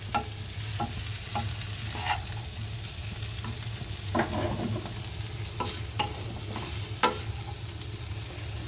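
Onion and garlic fry with dried kachki fish in a pan, a steady close sizzle broken by scattered spoon stirs and scrapes, with no talking.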